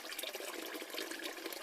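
Kitchen tap water runs steadily into a sink full of dishes being washed with warm soapy water, a continuous hissing splash close by with no pauses.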